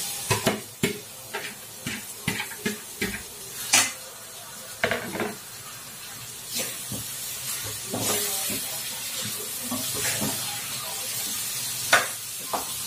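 Vegetables stirred into fried masala in a pan on a home stove, with repeated clinks and scrapes of a utensil against the pan over a faint sizzle, close and alone without talk.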